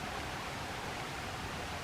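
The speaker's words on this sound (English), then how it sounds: "But I can still hear the creek run, so sounds pretty good to me." A creek runs near a cabin at night as a steady, even rush of water, moderately faint, with no voices.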